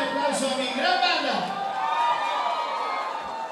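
A concert audience at a band's live 45th-anniversary show cheers and shouts in a dense, steady roar that stays loud for the whole stretch, with voices rising out of the crowd.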